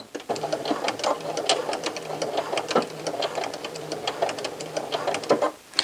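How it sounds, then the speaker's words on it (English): A sewing machine stitches sweater fabric and backstitches, a rapid steady mechanical ticking and whirring that runs continuously up close with only a brief pause near the end. "Sew up to the point where you marked on your fabric to begin the opening and stop. Then you're going to backstitch."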